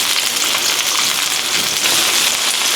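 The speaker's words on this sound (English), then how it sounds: "Saute the onion first until soft before adding in the garlic." Chopped onion sautéing in a hot pan for a Korean japchae noodle dish, giving a steady, dense sizzle and crackle that stays loud and even throughout, with no voices.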